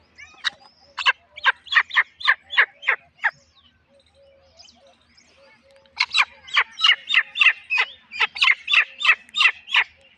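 A captive grey partridge (titar) calls in two loud, close bursts of rapid, evenly spaced harsh notes, with a short quiet gap between them, while it is being brought out for release.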